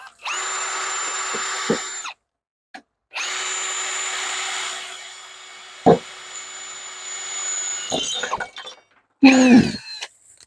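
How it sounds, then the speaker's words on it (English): Power drill pre-drilling a hole into a leftover wood piece for a bath shelf, two sustained whirring runs of a couple of seconds each, loud and close, ending with a brief spin-down and a clatter. "I'm going to attempt to go ahead and pre-drill right into here"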